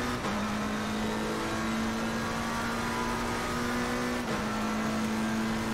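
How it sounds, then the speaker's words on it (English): A Lamborghini race car engine in a racing video game holds a steady, loud drone for the whole stretch, with a brief dip and gear shift near the end; no talking over it. "let's see what we can do about this Lamborghini"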